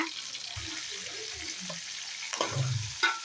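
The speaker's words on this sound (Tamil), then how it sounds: "வெள்ளைப்பூடு சின்ன வெங்காயம் நல்லா ஆட் பண்ணியாச்சு இது நல்லா பொன்னேரமாக நல்லா வதக்கி" Dried fish sautéing in oil with garlic and shallots hisses softly and steadily, with a few scraping stirs and a louder clatter of the spatula near the end, close by.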